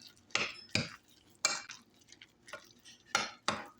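A utensil scrapes and knocks through meatloaf mixture generous with ketchup in a bowl, five or six distinct bursts of scraping with short pauses between, close and fairly loud, no voices.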